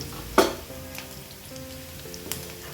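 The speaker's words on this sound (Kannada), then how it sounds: "ಈಗ ಈರುಳ್ಳಿ ಚಲೋದಂಗೆ ಫ್ರೈ ಆಗೈತ್ರಿ" Chopped onions fry in oil in a pan for Betageri chutney, a quiet steady sizzle punctuated by a few sharp spatula scrapes and clinks against the pan.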